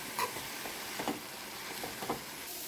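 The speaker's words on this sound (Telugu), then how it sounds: "చాప్ చేసుకున్న ఆనియన్ కడిగి చాప్ చేసిన పాలకూర అన్నీ వేసి బాగా ఫ్రై చేయాలి" Faint sizzle of chopped onion and spinach frying in a pan, with a few soft stirring clicks over a steady low hiss.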